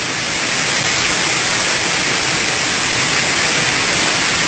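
A waterfall pours in a steady, dense rushing roar, close and loud throughout, with no break or voices over it.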